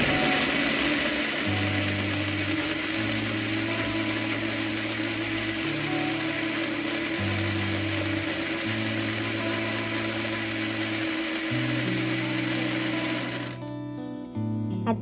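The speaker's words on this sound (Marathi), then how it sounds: "मी मिक्सरमध्ये बारीक वाटण तयार करून घेणार आहे" Mixer grinder blending onion and tomato into a fine paste for restaurant-style matar paneer, a loud steady whirring motor with shifting pitch for about thirteen seconds before stopping abruptly.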